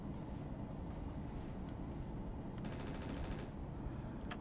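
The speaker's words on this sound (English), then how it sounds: "Just machine guns" Sustained machine gun fire in the mech combat game RogueTech, a dense steady rattle of rapid shots running through the whole stretch, with a brighter burst of rapid pulses near the end and no voices.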